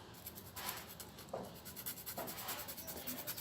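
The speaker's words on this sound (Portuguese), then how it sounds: "E eu vou começar a raspar de novo." Primer on a project surface being scraped smooth to level it, a dry rubbing rasp in repeated uneven strokes, close and fairly quiet, with no voices.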